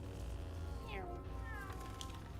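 Crookshanks the cat from LEGO Harry Potter gives a couple of short, thin meows, fairly faint over a constant low background hum.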